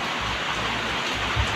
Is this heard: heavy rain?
yes